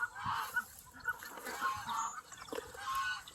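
A show-quality duck gives a run of honking, nasal calls in a quick repeated sequence, fairly close and clear, with no talking.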